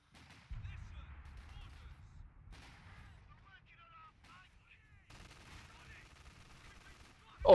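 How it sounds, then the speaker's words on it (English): Artillery and gunfire thud and crack in a World War II strategy video game set around Caen, with scattered low booms and sharp reports over a dull background and a loud hit at the very end. "He calls in artillery as well."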